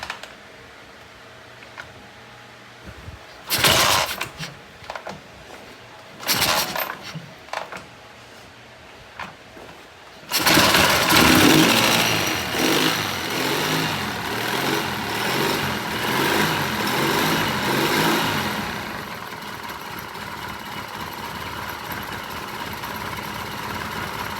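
A 1978 Triumph engine on a lift cranks in short bursts with pauses, then catches and settles into a loud, steady idle that continues to the end, close to the listener.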